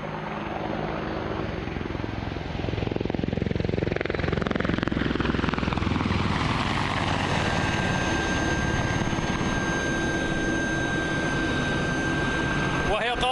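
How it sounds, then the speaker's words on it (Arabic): Attack helicopter flying at an air force display, a loud whirring engine and rotor drone that shifts in pitch as it passes, with a rising whine, beneath continuous talk. "مروحية هجومية عالية التسليح ذات ردود أفعال سريعة"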